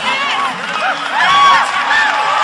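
A boxing crowd at a WBC world title fight in Australia cheers and whoops after the first round, a steady, swelling roar with excited voices rising over it.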